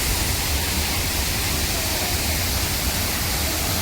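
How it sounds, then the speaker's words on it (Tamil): Thirparappu waterfall pours with a loud, constant broadband roar of rushing water, close and unbroken throughout. "water falls"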